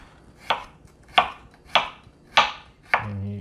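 A knife cuts through a whole onion on a cutting board in five crisp, evenly spaced strokes, close and distinct, ending with a low hum.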